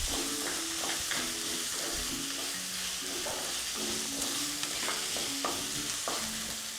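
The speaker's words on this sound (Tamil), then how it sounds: "இப்போ நம்ம இந்த பச்சை மிளகாவை போட்டுடலாம்." Green chillies frying in oil for an aloo samosa filling, a steady sizzle with repeated stirring scrapes throughout, close and continuous with no talking.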